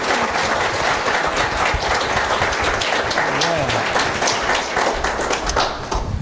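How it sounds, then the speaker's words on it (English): Evening audience applauding the actors at a spiritual talk, steady and dense clapping from a large crowd filling the whole stretch without a break. "And a good applause to our lovely actors."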